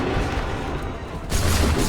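Musket volley in Assassin's Creed III Remastered: a steady wash of battlefield noise swells abruptly into a loud, dense burst of massed gunfire near the end.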